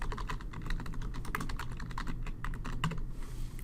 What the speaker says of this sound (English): First, I'm going to type a title